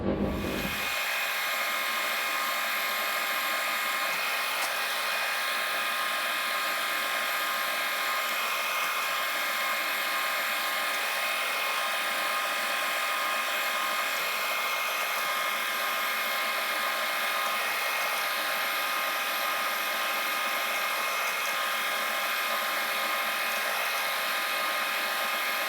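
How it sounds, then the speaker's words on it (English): A drill boring two holes in small metal blocks being made into lathe tailstock way wipers, a steady continuous whine running loud and unbroken throughout with no talking. "Just got to drill the two holes and then put the pocket in."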